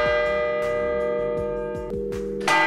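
Bells of the St. Mary Magdalene clock tower in Abbeville ringing loud and close, with strong sustained metallic tones and repeated strikes layered over each other.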